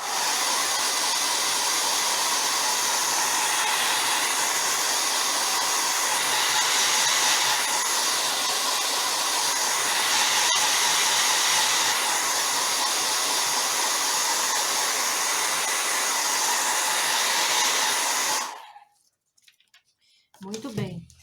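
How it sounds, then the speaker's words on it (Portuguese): A hair dryer blows hot air to heat wax on a piece being given a demolition-style patina, a steady loud whooshing drone lasting about eighteen seconds before cutting off, then brief faint noise. "a gente distribui o calor, né, do secador, mesmo quente, quando utilizamos cera aqui na base"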